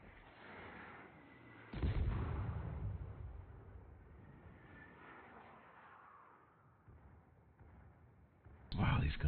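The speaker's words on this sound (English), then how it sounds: "these guns fire so slow" Heavy battleship guns in a warship video game boom out as two big low blasts, one near two seconds in and another at the end, with rumbling aftermath and game voices or chatter underneath.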